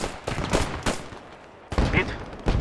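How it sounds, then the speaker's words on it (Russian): Gunfire in the World War II shooter Post Scriptum: several sharp shots in quick bursts, a short pause, then another cluster of shots, fairly close and alone without talk. "Слышу выстрелы."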